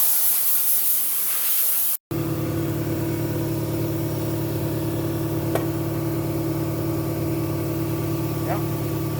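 Compressed air and brake cleaner spray hiss into a RZR RS1 clutch area to blow out dirt, a sudden burst after a brief cut, over a steady low engine-like hum that runs throughout.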